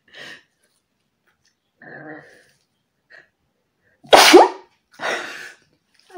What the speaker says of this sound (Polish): Będę kichać.